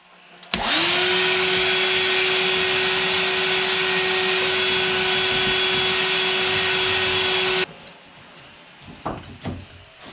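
A battery-operated cordless vacuum runs loud and steady for about seven seconds with a constant motor whine, then cuts off abruptly, leaving a few quiet knocks and handling sounds during laminate flooring work in a small log cabin.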